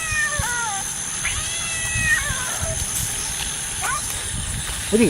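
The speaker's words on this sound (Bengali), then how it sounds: "বিড়াল আওয়াজ আসছে।" A cat meows several times in short rising and falling calls amid people talking and a steady background hum.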